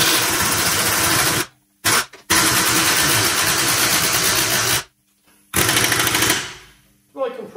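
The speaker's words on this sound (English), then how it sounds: "Compressor actually turned on." An air compressor kicks on and runs with a loud, steady mechanical chug, stopping briefly a couple of times before restarting, close by in a workshop.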